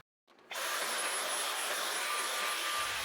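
A household vacuum cleaner fitted with a combination cleaning tool starts up with a brief rising whir, then settles into a steady, bright rushing whine that continues evenly.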